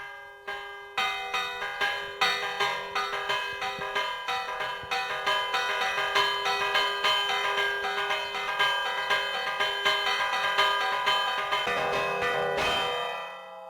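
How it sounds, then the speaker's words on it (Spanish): A festive repique of church bells rings out loud and close, with rapid overlapping strikes in a lively, steady rhythm and no voices, before cutting off abruptly near the end. "te puedo poner un repique, por ejemplo, de fiesta"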